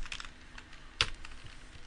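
Brief keyboard typing on a computer while troubleshooting Raspberry Pi audio: a few soft, scattered key clicks with one sharper, louder keystroke in the middle, close and with no voices.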